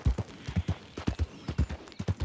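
Horse hooves clip-clop at a steady walking rhythm on a trail in Red Dead Redemption 2, with evenly spaced, fairly soft, close-up hoof strikes and no talking.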